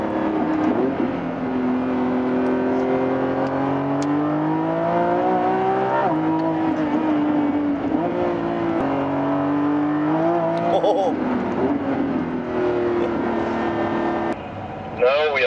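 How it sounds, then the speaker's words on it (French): Lamborghini Revuelto V12 engine drones steadily with rising and falling pitch as it revs through gear changes, close and loud inside the car, with a brief dip near the end. "en entendant les brou brou brou brou brou du V12"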